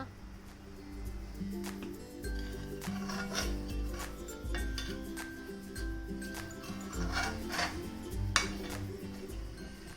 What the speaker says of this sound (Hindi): अब कढ़ाई के किनारों पर बनी मलाई की परत को कुरचकर इसे इकट्ठा कर लें